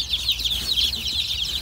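Mixed-breed chickens, Brahmas among them, cluck and chatter close by in a continuous busy flock sound with no talking.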